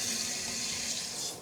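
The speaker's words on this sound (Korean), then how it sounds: "한샘에서 신제품으로 나온 와이드 폭포 수전을 시공해드렸는데요" Water runs steadily from a new Hanssem wide waterfall kitchen faucet, a broad sheet of flow splashing into the sink with a constant hiss, close and alone with no voices.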